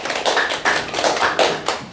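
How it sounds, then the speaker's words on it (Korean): An audience at a policy seminar claps in distinct, fairly loud slaps in a steady beat for about two seconds. No one speaks over it. "다시 한번 박수 부탁드리겠습니다"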